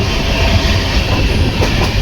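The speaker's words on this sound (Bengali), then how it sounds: "জলদাপাড়া ন্যাশনাল পার্কের কোর দিয়ে যাচ্ছে ট্রেনটা।" The Kanchankanya Express passes through the core of Jaldapara National Park in North Bengal, a loud, steady rumble of rolling wagons with a faint clickety-clack running throughout, close and continuous.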